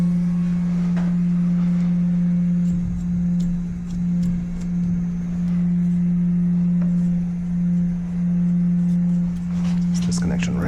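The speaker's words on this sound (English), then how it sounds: "As the water's moving by, they vibrate and cause that hum." A steady, loud hum from a plumbing water hose connection whose inner washers vibrate as water flows past, droning continuously with faint ticks over it and no voice.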